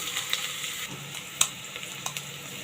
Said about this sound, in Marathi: आता आपण हा कांदा ना पहिले चांगला परतून घेऊया ब्राऊन गोल्डन ब्राऊन होईपर्यंत